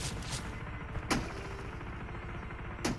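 Gunfire in a battle royale video game: two or three sharp shots at moderate volume, spaced about a second or more apart, over a busy rumbling background with no talking.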